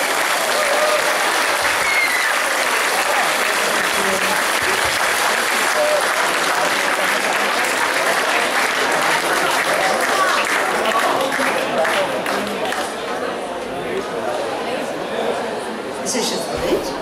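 A crowd at a Basel jazz festival applauds a singer; sustained loud clapping with chatter and cheering runs the whole length, easing slightly near the end.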